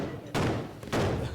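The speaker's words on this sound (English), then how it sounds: "People had these small metal pipes that they would fill with gunpowder, and then they would blast them off into the air." A rock cannon, a small metal pipe packed with gunpowder, fires twice during a British Bonfire Night tradition, each blast a dull, muffled boom that lingers and rumbles rather than cracking sharply.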